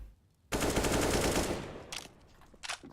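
Gunfire in a tactical shooter video game esports match, a sudden rapid automatic burst lasting about a second that tapers off, followed by a couple of softer short shots, with no talk.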